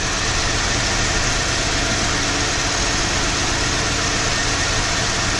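A 1995 Ford F150 4x4 truck engine idles in a loud, steady, rumbling drone heard up close, unchanging throughout.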